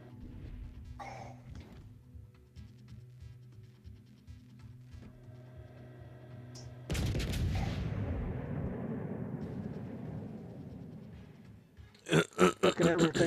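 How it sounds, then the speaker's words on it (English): A naval video game plays through a stream, with low rumbling engine drone, then a heavy booming explosion of a ship that rolls on, followed by a quick string of loud gunfire bursts. "everything I shoot at blows up"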